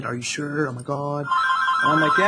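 A phone rings in steady, repeating tones under continuous nearby talking.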